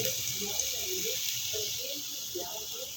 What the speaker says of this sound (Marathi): चला तर आपण पाणी घालूया त्याच्यात